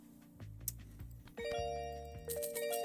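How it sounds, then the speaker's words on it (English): Electronic doorbell chimes sound in a series of clear ding-dong tones, the melody layering over itself as it repeats, moderately quiet but distinct with no talking. "Meanwhile, ding dong sound"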